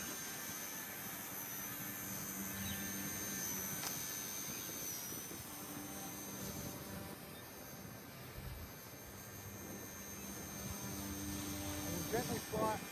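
A K110S radio-controlled helicopter flying outdoors, its motor and rotors giving a steady, high-pitched whine throughout, with voices faint in the background.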